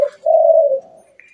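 A single spotted dove (tekukur) gives a short, clear coo, close and loud, a brief opening note followed by a sustained mellow tone and a faint trailing whistle.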